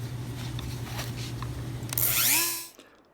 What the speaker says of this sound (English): I think I can cut that in half with my Dremel tool and still get a little bit closer